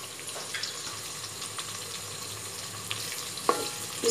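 Cauliflower and carrot pieces frying in a pan with onions, giving a steady low sizzle and crackle throughout, with a few clinks of a utensil near the end; no one talks.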